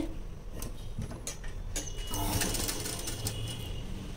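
A sewing machine stitching a blouse, a close, quiet mechanical whir and ticking that runs steadily with a few clicks and handling noises.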